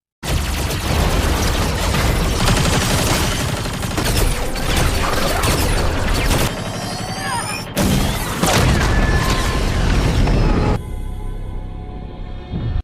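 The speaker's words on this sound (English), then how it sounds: "even young Milas has to leave her position to attack from behind until she successfully blows up one of the war machines" Loud, dense cinematic battle noise from the film Rebel Moon as a war machine is blown up, with booming blasts, crashing debris and rapid gunfire-like bursts running nearly continuously, a brief lull and then a renewed heavy surge.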